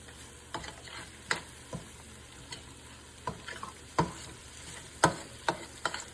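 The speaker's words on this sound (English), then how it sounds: "Notice I'm kind of going in between to try to, mix this tomato paste and get the tomato paste to cook as well" Meat and tomato paste cooking in a pan, a soft low sizzle punctuated by repeated sharp spoon scrapes and clacks as it is stirred, fairly quiet and close.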